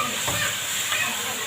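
Rice poured into a pot of vermicelli already fried golden in fat, a steady close sizzle with stirring scrapes and a few soft clatters, no talk.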